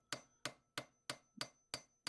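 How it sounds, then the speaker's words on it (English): Hammer striking a metal Japanese engraving chisel to reshape it, seven sharp, close metallic blows at a steady, fairly quick rhythm with short ringing decays between them. "hammering it back to shape"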